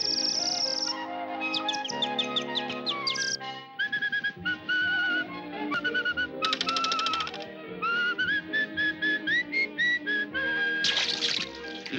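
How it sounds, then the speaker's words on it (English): Melodic whistling, a human whistling a tune with sliding and trilled notes over steady background music, clear and close. "If you whistle before breakfast"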